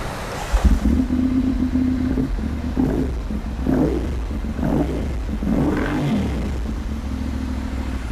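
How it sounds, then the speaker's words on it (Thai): A 2014 Ducati M796 motorcycle with dual exhaust idles with a deep rumble, then revs several times in rising and falling bursts, close and loud. "ให้ลองฟังเสียงเครื่องยนต์กันดูนะครับ"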